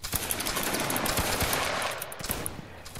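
A musket volley from a grenadier line in a video game, a loud ragged rattle of many near-simultaneous shots that rolls for a couple of seconds before thinning into scattered cracks.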